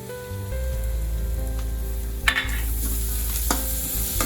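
Onions and green chillies fry in a pan for a beetroot poriyal, giving a steady close sizzle with a couple of brief stirring clinks and no talk.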